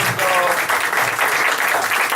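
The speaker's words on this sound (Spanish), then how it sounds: "Salúdenlos, denles un aplauso." A church congregation at a Sunday service claps loudly and continuously, a dense, close wash of applause filling the whole short moment.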